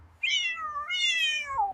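A cat gives two drawn-out meows in quick succession, each falling in pitch, close and clear against a quiet background.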